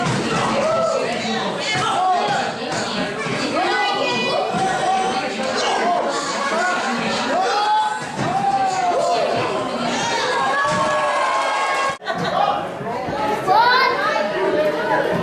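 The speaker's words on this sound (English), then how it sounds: "The crowd showing a lot of life as a result of that flying attack." Wrestling crowd buzzing with chatter and shouts after a flying forearm attack in a Mike Strong vs. Kid Prodigy match, a dense, lively roar that carries on steadily with brief dips.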